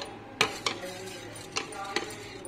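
A spoon stirs black salt into pomegranate fruit raita in a bowl, giving a few soft, separate scraping clinks at an uneven pace, with no voices.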